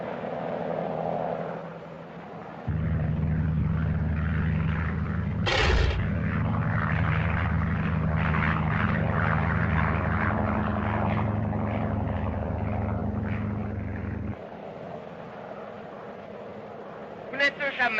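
Steady propeller-plane drone from an early 1930s aircraft cabin, a low sustained engine hum running continuously under conversation, with a brief sharp noise midway and the drone dropping away near the end.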